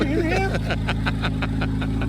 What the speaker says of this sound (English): So now you've heard the idle of both of the cars.